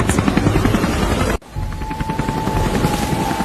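A cartoon helicopter flies with a loud, fast rotor chop that cuts out briefly, then resumes with a steady whine over the beating blades.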